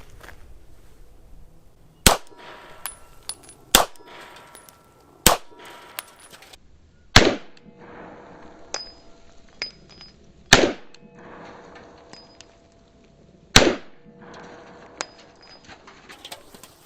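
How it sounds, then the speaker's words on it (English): Seven sharp Beretta 92X pistol shots ring out one at a time at an outdoor range, aimed at soda cans 7 yards off, with faint metallic pings and bird calls between them. "So I'm giving myself 3 rounds to hit 3 soda cans, 7 yards."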